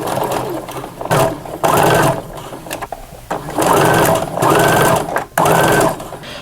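A sewing machine stitches a pants hem in loud close bursts, its rapid motor whir starting and stopping several times with short pauses between runs, no talking.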